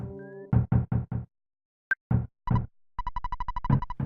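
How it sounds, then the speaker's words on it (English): Knocking at the door in EarthBound comes as bursts of repeated knocks, first a cluster of four, then single and double raps, then a rapid run of knocks, all close and crisp with short silences between. "Someone's knocking at the door."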